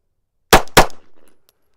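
Two quick handgun shots fired as a double tap on a shooting range, sharp and loud, close together and followed by a brief fading echo.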